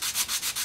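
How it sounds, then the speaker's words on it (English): Hand sanding on a large wooden church-pew bench, with quick back-and-forth abrasive strokes in an even rhythm, close and clear, with no talking. "I'm just sanding it all down."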